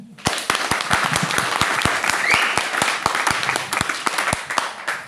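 An indoor audience at a network marketing event claps in a steady, fairly sparse rhythm of sharp individual hand claps that continues evenly for several seconds.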